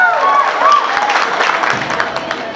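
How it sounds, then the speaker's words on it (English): Audience at a Miss Khiamniungan pageant in Noklak, Nagaland, applauds and cheers for a contestant, a bright crowd clapping that carries on under a voice in the hall and fades slightly toward the end. "Let's give a big round of applause for contestant number 7."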